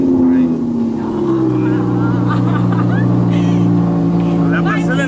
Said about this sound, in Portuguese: Eu vou acelerar esse carro.